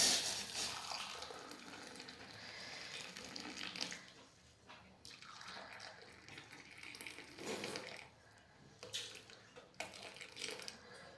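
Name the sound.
pouring boiled hot water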